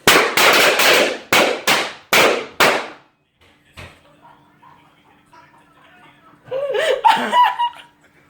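A firework set off as a prank goes off in a rapid burst of about seven loud, sharp cracks, followed by quiet and then laughter and voices.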